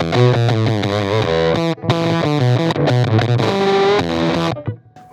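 A Les Paul-type electric guitar runs through a 1957 Fender Princeton amp at high gain, giving a loud, saturated distorted tone of fast riffs and sustained notes with brief gaps, played alone.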